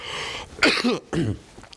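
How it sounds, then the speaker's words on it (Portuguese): A couple of harsh, close coughs, one after another, with a brief throat-clearing quality and short pauses between them. "Eu tô com essa tosse horrível"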